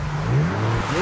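A car stuck in snow revs its engine, a steady low droning rumble with a slight rise in pitch midway, held throughout without pause.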